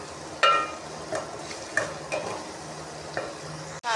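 Spiced chicken masala with salt and turmeric powder being fried in a pan: a handful of quick scraping stirs over a faint sizzle, close by, ending with a brief clunk.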